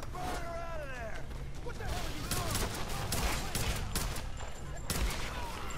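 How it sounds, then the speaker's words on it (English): Rapid enemy gunfire crackles in bursts across a dense Tomb Raider firefight, with steady battle noise and shouting underneath throughout. "Getting shot at, though."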